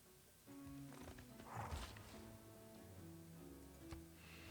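A horse whinnies in Civilization 6 amid game-like tonal music and clip-clop hoofbeats, the neigh rising in the middle of the short stretch.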